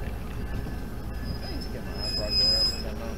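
A train rumbles steadily nearby at Encinitas Station with low, continuous rolling noise, and a high metallic squeal rises briefly toward the end.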